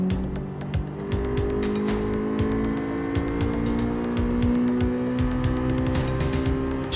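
A 1997 Honda Civic hot hatch in Gran Turismo 7 revs hard toward about 9,000 RPM, its engine note climbing in a loud, continuous high-pitched wail with repeated sharp clicks throughout.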